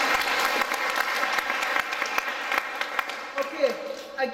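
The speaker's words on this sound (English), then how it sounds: "Give him a big round of applause." An audience at a magic show in Limerick breaks into applause, dense clapping that starts full and gradually thins into scattered claps, with a voice faintly audible near the end.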